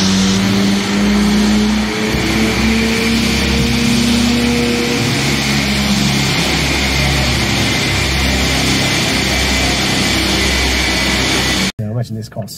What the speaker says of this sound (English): This car screams.